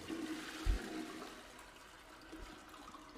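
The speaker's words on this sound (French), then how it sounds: "Très important de tirer la chasse d'eau." A toilet flushes faintly in the video game Boris and the Dark Survival, a brief gurgling rush of water fading into a soft, steady trickle.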